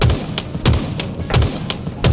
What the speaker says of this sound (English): The Bandit Rifle is a single shot precision weapon with 15 bullets in the magazine.